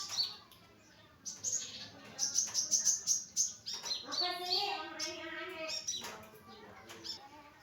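Bar-winged prinia chirping near its chick, a quick run of high, sharp tweets followed by warbling, trilling calls, fairly faint and close, with quiet low background noise.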